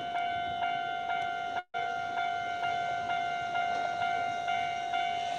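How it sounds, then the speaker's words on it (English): A one-man train pulls into a station beside a Japanese shopping street near Fuji, sending out a sustained tonal whine or horn-like hum at moderate distance that breaks off briefly and then carries on. "All right, we're gonna get a train sighting here."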